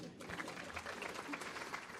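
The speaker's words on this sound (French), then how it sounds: "Vous pouvez l'applaudir." An audience at a tourism conference applauds a speaker, continuous crowd clapping heard fairly quietly and at a distance.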